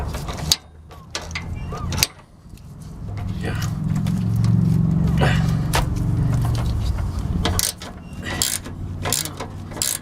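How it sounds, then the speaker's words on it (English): A ratchet tightens a bump stop bolt on a 2000 Ford Excursion, giving sharp clicking strokes at the start and end around a stretch of steadier mechanical grinding, close by, with someone talking at times. "Now I'm gonna hold on to the ratchet, and I'm going to tighten"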